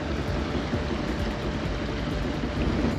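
Steady low rumble of a large ship's engine with churning water as it passes in the Suez Canal, a constant, unbroken wash of noise from nearby.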